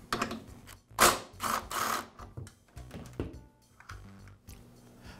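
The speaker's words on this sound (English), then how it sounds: "I'll use an impact wrench to remove the shoulder bolt." An impact wrench hammers at a shoulder bolt on a Toro lawnmower rear wheel, delivering several close, loud bursts of rattling impacts separated by short pauses and quieter mechanical clicks.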